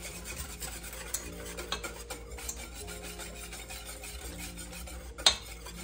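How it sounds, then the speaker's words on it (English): Chocolate pie filling is stirred in a pot on an electric stove, a steady close rasping scrape of the utensil against the pot bottom with small clinks and one sharper knock near the end, no voices. "Making sure I got all of my stuff stirred up"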